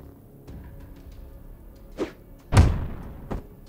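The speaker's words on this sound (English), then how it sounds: "I use a gale grenade here" A gale grenade in Tactical Breach Wizards lands with a deep, heavy thump, followed by a short blast. Lighter thuds and a whoosh come before and after it.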